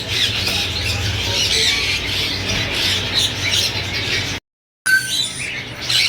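Yellow ringneck parakeets squawk and chirp at a busy Sunday bird market in Bahawalpur, a dense, bright chatter of calls over a low background rumble, with a short silent break before the calls resume.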